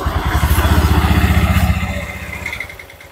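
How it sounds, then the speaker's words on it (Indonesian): Honda Vario scooter engine fires up and runs roughly close by, a loud uneven puttering that holds for about a second and a half before dropping off to a quieter idle. "dan kita hidupkan dulu mesinnya."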